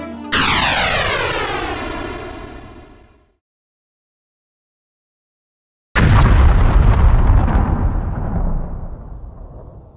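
A Kyushu Sora Mark 1 rocket launching at a giant meteorite gives a loud, descending engine whine that fades to silence, then a sudden roaring blast bursts in close and slowly decays.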